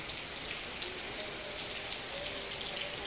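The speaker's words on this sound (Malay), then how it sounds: "Hujan lah, tengah hujan." Steady rain pours down on a leaking roof, a dense even hiss of drops drumming on a hard surface overhead, with no pauses.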